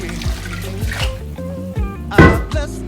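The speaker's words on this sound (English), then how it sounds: "I'm gonna go ahead and still adding some water." Water poured into a pot of vegetable jollof rice, a few uneven splashes and dribbles with a louder gush near the end, close by, with no talk.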